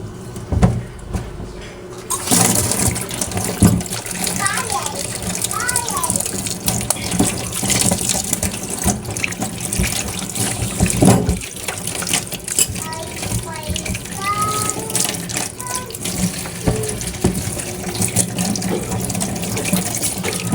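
Water runs steadily from a tap into a sink, a continuous close splashing stream after a brief quieter start, with faint background clatter throughout.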